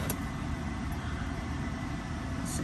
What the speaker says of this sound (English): See, that AC thing is not gonna shut off.